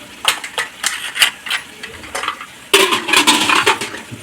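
Steel bowls set one by one into an idli steamer pot holding a little water on the stove, giving a series of sharp metallic clinks and taps, near and moderately loud, with a busier clatter of metal near the end.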